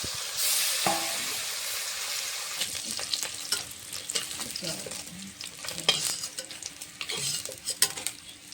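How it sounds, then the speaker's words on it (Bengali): Rohu fish pieces frying in hot oil in a pan, a steady crackling sizzle with intermittent scraping and clinking of a utensil against the pan, moderately close and without talk. "বাকি মাছগুলো এভাবে ভেজে নেব।"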